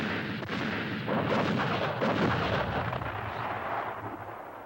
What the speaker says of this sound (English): The communist artillery dramatically reveals its presence, pounding the unsuspecting French on the valley floor below.